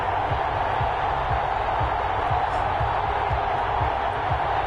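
A stadium crowd in the Madden NFL 21 video game, at a Seattle Seahawks versus New Orleans Saints match, makes a loud, steady roar with regular low thumps pulsing underneath throughout.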